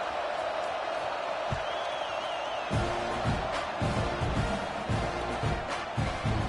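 A stadium crowd in an NCAA 26 college football video game makes a steady, broad wash of noise that runs throughout, with rhythmic low thumps joining partway through.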